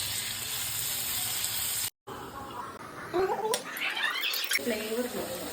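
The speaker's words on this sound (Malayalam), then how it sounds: "നമ്മള് ഉള്ളി മൂപ്പിച്ചെടുക്കുകയാണ്." Onions frying in oil for chicken biryani, a steady close sizzling hiss interrupted by a brief silence, then continuing with clattering stirring sounds and scrapes.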